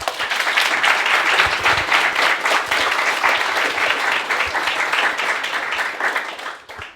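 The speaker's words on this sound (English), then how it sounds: "Any questions? Round of applause." A steady round of applause from an audience at a careers fair, dense and continuous clapping that holds for several seconds before tapering off at the end.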